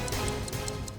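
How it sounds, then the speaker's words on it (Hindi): A hidden bomb's clock ticks in quick, even clicks, faint and close, with a low hum beneath during a tense scene in a vehicle. "घड़ी की आवाज?"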